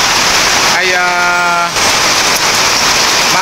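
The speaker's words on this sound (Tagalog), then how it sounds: "Pero sa ngayon ay tuloy-tuloy ang pag-ulan." Steady heavy rain from a typhoon pours down continuously, a loud close hiss that fills the whole clip while a voice talks briefly over it.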